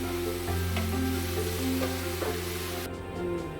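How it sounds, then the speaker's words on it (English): Meatball soup ingredients sizzling in a hot pan while being stirred, with scraping sounds over a steady frying hiss. "Mix it while frying to avoid getting burnt."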